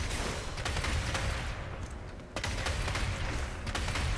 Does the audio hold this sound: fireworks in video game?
yes